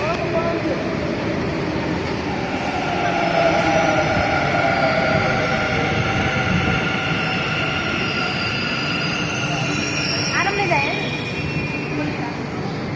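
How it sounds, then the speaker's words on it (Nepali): A train travels through Bengaluru, heard from inside a carriage, as a continuous rumbling roar of wheels on rails with a brief squeal near the end, while passengers chat in the background. "हामी ट्रेनमा गइसकेका छौँ"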